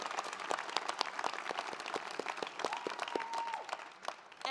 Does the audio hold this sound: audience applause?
yes